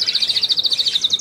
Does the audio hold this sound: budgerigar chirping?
yes